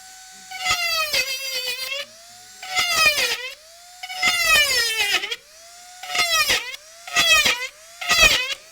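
Power drill with a pointed bit boring holes into a dried gourd: six separate bursts of high whining drill noise, each a second or so long, with short quiet gaps between, close and fairly loud with no talk.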